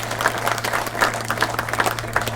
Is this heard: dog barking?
no